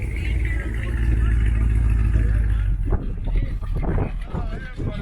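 A 1971 or 1972 Cadillac with a 472 cubic inch V8 and no catalytic converter idles at a car show, its deep, steady rumble close by, with wind buffeting the microphone throughout.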